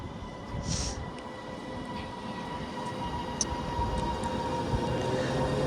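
A three-coach Class 331 train rumbles steadily past at Wilmslow station, a continuous heavy roar of wheels and motors with faint high squeals, no voices.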